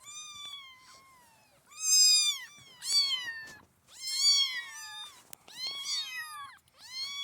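Kittens meowing and whimpering in a series of high, drawn-out cries, close and fairly clear in an otherwise quiet room, with short pauses between calls.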